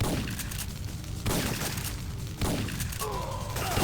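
Explosions go off in the Syphon Filter video game, with a dense, roaring blast and heavy rumble that pulses through the clip, a couple of sharper bursts renewing it, and loud crackling throughout.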